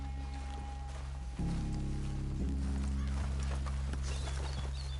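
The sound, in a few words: horses clip-clopping and whinnying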